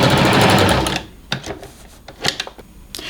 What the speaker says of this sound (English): whilst we're zigzagging the shoulder seams, we may as well continue all the way along the back